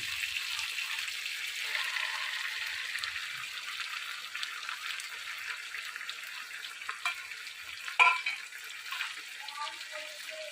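Okra and onion go into hot oil with mutton, giving a soft, steady frying hiss and sizzle with faint stirring clatter and a small knock near the end.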